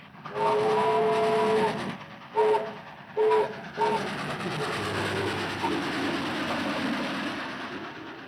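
A train horn sounds in several blasts, one long then shorter ones, followed by the steady rumble of a passing train.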